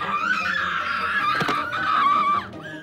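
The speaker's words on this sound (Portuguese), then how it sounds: "Ela está gritando por um longo período de tempo." A woman screams in a film rage scene, one long, sustained, very high-pitched cry held loud and close for nearly three seconds before it breaks off.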